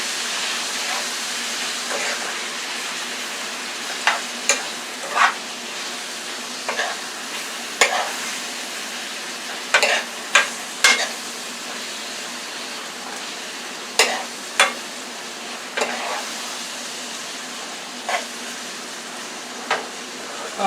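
Steak, peppers and onions sizzle in a frying pan with a constant hiss. Loud, scattered clatters and scrapes from stirring break in every second or two.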